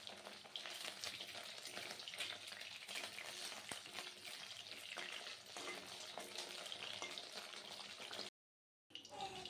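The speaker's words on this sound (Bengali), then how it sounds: "বাকি চিকেনগুলো একে একে দিয়ে দিচ্ছি ভেজে নেওয়ার জন্য" Chicken pieces for chilli chicken frying in oil, a steady, busy sizzle crackling throughout with scattered pops and spatters, close and fairly loud, with a brief silent gap near the end.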